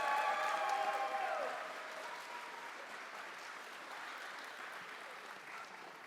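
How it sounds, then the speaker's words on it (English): An audience at a gaming tournament applauds, a loud burst of clapping at the start that fades to a softer, sustained patter for the rest of the clip. "One last round of applause here for match number 2"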